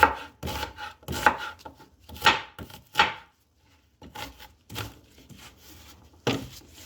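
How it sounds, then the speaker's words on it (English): An onion being sliced into small pieces with a knife on a board, for a Cameroonian roasted fish pepper dip: a close run of crisp, uneven chopping strokes with brief pauses between them, no talking. "I'll be slicing my onion into smaller pieces."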